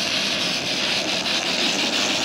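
A small oscillating twin-cylinder model steam engine in a Michelin steam railcar model runs with a steady loud hiss and a faint, quick rhythmic chuffing pulse beneath it.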